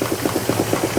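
A miniature steam engine driving a small generator chuffs steadily in a regular, evenly spaced rhythm, close and moderately loud, with a mechanical hum underneath and no voices.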